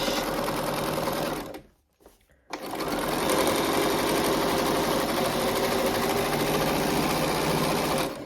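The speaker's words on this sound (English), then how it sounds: "And then I'm just going to do a top stitch all along the edge." A sewing machine runs a top stitch along the edge of a fabric cylinder pencil case with a loud, steady, close whir. It stops briefly near the start, then picks up again and keeps stitching continuously.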